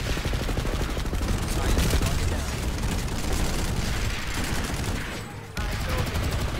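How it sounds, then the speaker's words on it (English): Rapid bursts of video game gunfire fill a shootout, loud and dense, with automatic fire rattling continuously before a brief gap and a renewed volley. "Guy shooting us in the back here."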